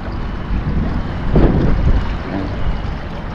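Wind rushes steadily across the microphone outdoors near the sea during a fishing outing in Taiwan, a loud continuous roar that swells briefly midway.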